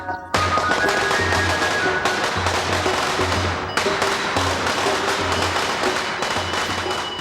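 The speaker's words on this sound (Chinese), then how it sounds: "放炮啊！" Firecrackers set off in a long, rapid crackling string of sharp pops and bangs, loud and close, running almost continuously for about seven seconds.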